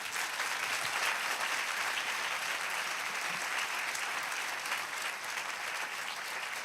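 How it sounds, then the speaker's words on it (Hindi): Congregation at a Hindi church service giving a long, continuous round of applause, dense and even throughout, heard at a moderate distance without any voices over it. "एक जोरदार ताली"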